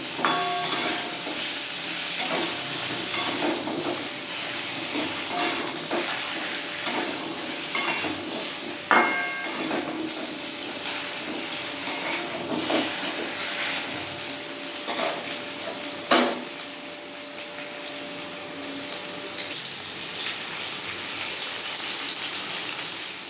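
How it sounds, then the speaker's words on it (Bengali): Potatoes and taro frying in oil with salt and turmeric, a steady crackling sizzle running throughout, with occasional sharper clatters of a utensil against the pan. "নুন হলুদ দিয়ে আমি লাল করে আলু আর কচুটাকে ভেজে নেব"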